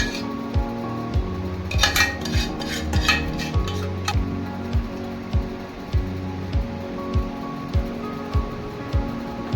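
Mango pickle mixture being stirred in a pan at home, with regular scraping strokes and clinks of a spoon against metal about once a second, close and steady, with no talking.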